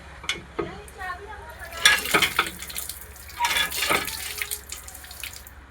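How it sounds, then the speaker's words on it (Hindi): Water from a tap splashes and trickles over mangoes being rinsed by hand, with intermittent gushes and handling noises close by and a voice speaking briefly. "चलो अब आम धोएंगे"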